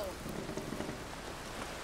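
Steady rain falls in A Plague Tale: Requiem, a dense, even hiss of drops on surfaces that holds at moderate level through the whole stretch with no voices over it.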